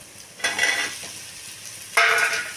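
Potatoes are tossed into onions in a frying pan, two short bursts of spoon scraping and sizzling over a faint steady fry, with a quiet pause between them.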